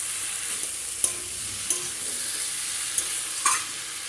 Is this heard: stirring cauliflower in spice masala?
yes